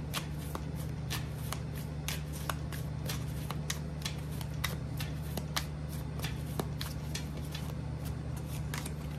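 Rapid riffling of tarot cards, repeated crisp shuffles in steady bursts over a constant low hum, close and fairly quiet.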